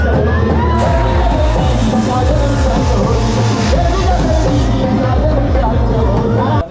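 A large crowd at a live Bhim Jayanti show on Khar Road, a loud, dense wall of cheering and babble sustained throughout, with voices and tonal sounds mixed into the din.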